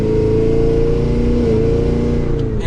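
A 2023 Cadillac Escalade V 4WD's engine revs under a little throttle in manual mode, giving a loud, close, sustained roar that holds steady throughout with no pauses.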